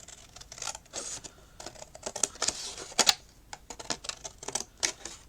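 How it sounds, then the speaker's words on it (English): Scissors cut through card at a craft table in a run of sharp, irregular snips and crisp clicks, close and fairly quiet, with no talking. "And I'm using my scissors."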